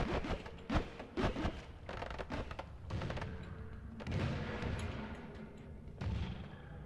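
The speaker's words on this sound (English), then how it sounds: "Seems to cause a lot of explosions." Bursts of explosions from a destroyed purple item in the Noita video game, a dense run of booming blasts and thuds rolling one after another at moderate level with no talk.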